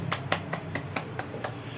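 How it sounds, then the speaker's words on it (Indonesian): Children clapping along together in a second-grade classroom lesson, about seven even, sharp claps at a quick steady pace, close and fairly loud over a low room hum. "Boleh tepuk tangan dulu anak-anak."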